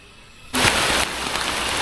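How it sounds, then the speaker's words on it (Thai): Rain suddenly starting to fall at night on a mountain in rural Thailand, jumping abruptly from near quiet to a dense, loud, steady hiss of drops close by, with no talk. "พอมืดปุ๊บ ฝนกระตกปั๊บเลย"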